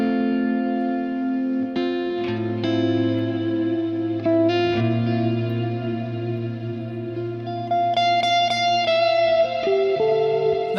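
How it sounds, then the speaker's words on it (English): Electric guitar played through a drenched reverb effect, sustained chords and single notes blooming and lingering in a wash of echo, steady and close with no talking. "Turn the reverb on again"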